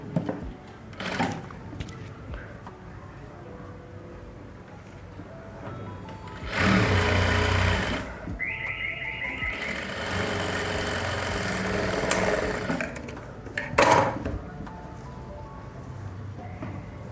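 A sewing machine stitches a katori blouse at a half-inch seam in a few separate bursts of whirring motor noise, close, with quieter handling sounds between runs.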